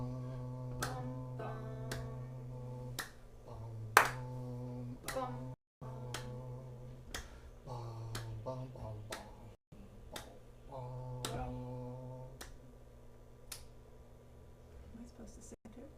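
Sharp, separate claps at a string quartet rehearsal of a Ravel piece mark out a musical rhythm, sounding over sustained string notes and a voice that sings along at times, with short pauses between phrases.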